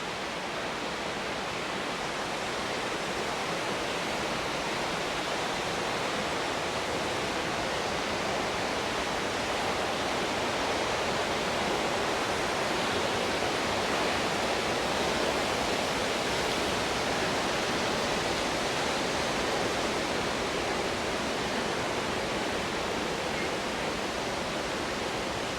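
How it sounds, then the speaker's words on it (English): A waterfall in Oregon roars as one steady, dense wash of rushing water that holds an even level for the whole stretch, with no voices over it. "Is this actually the waterfall?"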